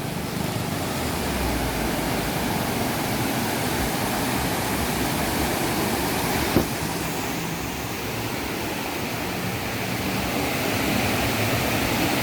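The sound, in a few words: river flowing over rocks at Lawe Sikap, Aceh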